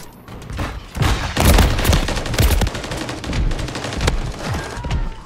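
Rapid, loud shotgun blasts from a Jak Wardens weapon in a video game, firing in dense repeated bursts with booming low thuds layered over one another, with no talking.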